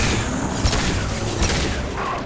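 Booming explosions from the video game Mass Effect 2 layered over dense, continuous combat noise, with a couple of heavier blasts standing out around the middle and near the end; loud and steady throughout, no voices.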